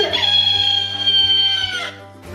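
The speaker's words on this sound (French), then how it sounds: "Ah, Oui, c'est un coq." A young rooster crows once, loud and close, a long strained cock-a-doodle-doo that tails off, followed by a brief faint sound.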